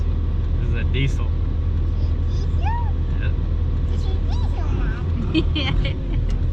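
A 2002 Dodge Ram 2500 with a 24-valve Cummins compound-turbo diesel drives along, its engine and road noise a steady, loud low rumble throughout, with people talking over it inside the cab.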